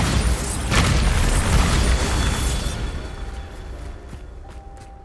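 Bombarda spell explosion in the video game Hogwarts Legacy, a loud, heavy booming blast with rumbling debris that rolls on for a few seconds and slowly fades away.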